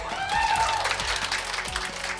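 An audience applauds at an educational math event, a moderate wash of clapping with a few low thumps running through it and no voices heard.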